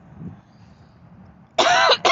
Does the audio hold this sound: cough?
yes